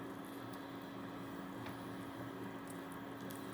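Dumpling dough being kneaded by hand after water was poured in, giving a steady, close, wet squishing and working sound with no voices.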